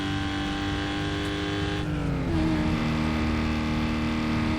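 A car in Need for Speed Most Wanted revs hard and accelerates, its engine loud and close with a steady roar that shifts pitch midway as it gears up.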